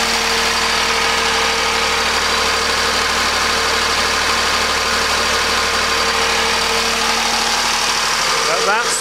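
Homemade asynchronous generator running steadily at speed, producing a loud, constant mechanical hum with a droning tonal whine and vibration that persists unchanged throughout.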